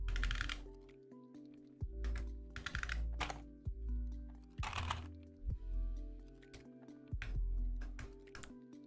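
Typing on a Mode SixtyFive mechanical keyboard fitted with black Boba tactile switches, close and quiet, with bursts of rapid clacky keystrokes separated by short pauses and occasional louder bottoming-out thocks.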